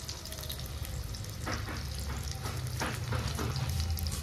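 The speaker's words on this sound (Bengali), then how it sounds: "উনুন জ্বালিয়ে কড়াই বসিয়ে সর্ষের তেলে আলুগুলো ভাজতে দিয়ে" Potatoes fry in mustard oil in a wok over a stove, giving a dense, even, close sizzle that holds steady throughout with faint stirring underneath.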